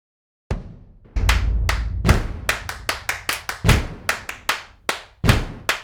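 Programmed MIDI handclaps and stomps from a drum track play in a loose, slightly lazy groove, with sharp claps and deep thuds hitting in quick succession after a single opening hit and a short pause.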